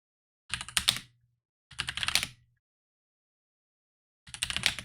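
Three separate bursts of rapid typing on a computer keyboard during a web word game, each lasting under a second, close and clear with silence between them.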